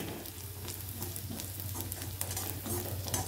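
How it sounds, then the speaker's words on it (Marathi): Garlic and onion fry in oil in a pan while being stirred, giving a steady soft sizzle with light scraping. "आपल्याला लसूण पण जरा तेलावर कांद्यासोबत जरा परतून घ्यायचं आहे."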